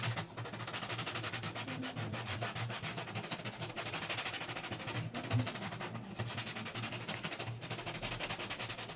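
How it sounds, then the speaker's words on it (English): Hand sanding of a shoe sole with sandpaper, a fast, steady scratchy rubbing of quick back-and-forth strokes, fairly quiet and close with no talk. "I'll just try to clean this up with this sandpaper."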